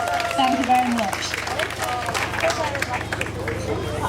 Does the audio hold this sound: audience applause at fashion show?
yes